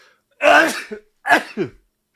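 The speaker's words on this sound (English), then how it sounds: "I'm going to sneeze." Two sneezes in quick succession, close and loud, the second a little shorter, with silence around them.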